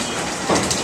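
A red tour train rolls through the narrow streets of old downtown St. Augustine, a continuous rumbling wash of motion noise with a brief louder swell partway through.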